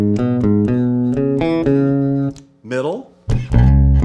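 Bass guitar notes played on the bridge pickup of a Spector Woodstock bass, plucked in a quick line, slightly brighter and punchier, then a pause and a spoken voice before another low note rings out.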